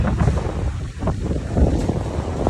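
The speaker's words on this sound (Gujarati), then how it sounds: "પવન એક નંબર આવે હોય સીડી ઉપર" Heavy wind roars and buffets the microphone continuously, a low rumbling gust with no voices.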